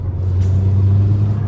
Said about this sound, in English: But the exhaust manifold is really broken.